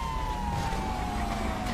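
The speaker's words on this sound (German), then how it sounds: "Ich fahr mit dem Krankenwagen in das Tor rein." An ambulance siren in the GTA Online video game wails steadily and loudly as the vehicle drives, a continuous tone with a slowly falling pitch over engine rumble, without any talking.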